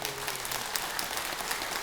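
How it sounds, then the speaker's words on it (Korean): An audience at a Buddhist winter retreat opening ceremony gives a short burst of steady applause, a dense even patter of many hands clapping together. "박수 안 쳐도 돼요."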